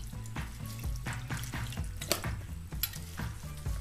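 Salt water poured over Napa cabbage for kimchi, a steady close trickle and splash with some gurgling knocks, continuing for several seconds without talk.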